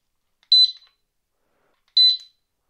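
A bicycle disc lock alarm gives two short, loud, shrill electronic beep bursts, each a quick double chirp, about one and a half seconds apart with silence between.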